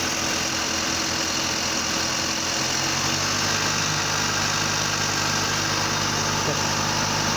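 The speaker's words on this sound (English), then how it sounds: "The AC compressor is working now." A 2013 Kia Sorento idles with its replaced A/C compressor running, giving a steady, close mechanical hum and whir that holds unchanged throughout.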